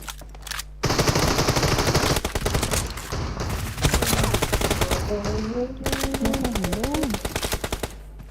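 Sustained automatic gunfire in a PUBG Mobile match, a dense rapid rattle of loud shots running nearly the whole stretch with short pauses, while a voice speaks briefly partway through.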